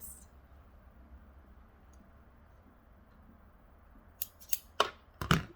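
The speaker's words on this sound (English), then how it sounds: "Remove our fabric, cut our threads," Scissors snip sewing threads near the end of a quiet stretch, a handful of sharp, crisp cuts in quick succession, close and clear.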